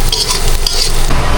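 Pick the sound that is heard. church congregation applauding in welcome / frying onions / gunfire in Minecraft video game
frying onions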